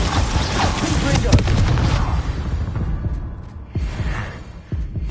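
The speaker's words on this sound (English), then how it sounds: "Confringo." Confringo fire spell blasts erupt in Hogwarts Legacy combat, a dense, loud barrage of explosive bursts with a sharp crack early on. The barrage gives way to lower rumbling thumps.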